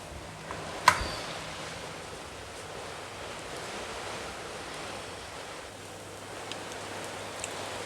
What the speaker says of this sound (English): the wind is strong out there.